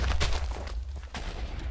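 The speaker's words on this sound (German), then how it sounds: "jetzt sehe ich lauter komische Creeper, die überall runterfallen und explodieren" Creepers exploding in the Minecraft video game, a rapid series of dull blasts and crackling bursts running through the whole stretch, loud and dense with no pause.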